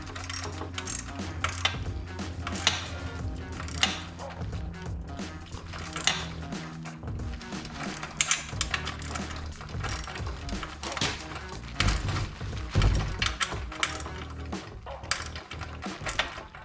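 Ratchet wrench tightening bolts on a bracket of a 2021 Yamaha YFZ450R ATV during a build, giving dense, busy clicking and metallic ratcheting throughout with repeated sharp tool clatter, close and fairly loud, no talking.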